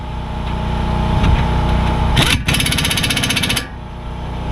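Power tool driving brake caliper bolts tight on a 2014 Honda Accord during a front pad and rotor job, a loud rattling hammer burst of about a second and a half over a steady low background hum.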